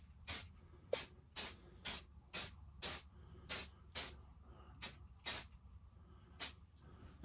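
A can of release agent is sprayed onto a Monster Clay sculpture in about eleven short, sharp hissing bursts, each under half a second, spaced irregularly and close to the listener.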